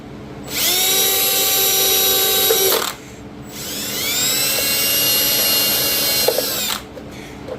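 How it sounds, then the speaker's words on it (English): A power drill whines loudly in two long bursts, spinning up and down with a short pause between, close and high-pitched. "So I'm just gonna drill a bunch of holes."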